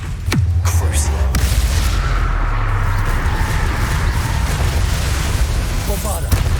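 Bombarda spell explosion in the Hogwarts Legacy video game, a loud sudden boom followed by a long rumbling roar, with another sharp burst near the end.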